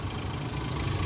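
A 2024 Mercedes-Benz GLS engine idles nearby with a steady low rumble, alone and with no talking, holding an even level for about a second.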